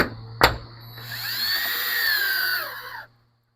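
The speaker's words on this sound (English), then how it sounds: "You may even want to back off on the clutch if you have one on your drill gun." A cordless drill gun drives a screw into wooden gazebo hardware, a sharp click and then a rising, whining motor run for about two seconds that stops abruptly.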